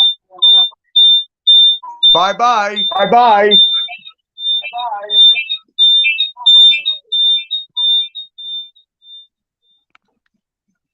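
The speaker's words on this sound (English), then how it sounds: "you hear that beeping?" A loud electronic alarm emits a steady series of high, piercing beeps in a quick repeating rhythm that fades away near the end, while a person talks over it in short phrases.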